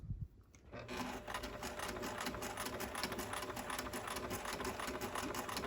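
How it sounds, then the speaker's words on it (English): A sewing machine stitches a dart in fabric with a steady, fast mechanical whir, loud and close, that starts just after the opening and runs unbroken to the end. "As I get closer to the point, I'm going to lower or make my stitch length smaller and sew that dart right on the point."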